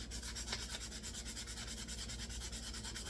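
A tobacco pipe being sanded by hand during a restoration, with steady rhythmic back-and-forth rubbing strokes, soft and close, repeating evenly with no voices.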